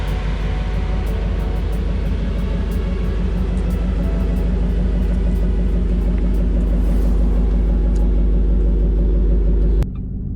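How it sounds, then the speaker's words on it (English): A 2013 Shelby GT500 running with its supercharger, a loud close engine rumble with a steady tonal whine layered over it, holding constant before cutting off near the end. "that instant you hear that supercharger whine."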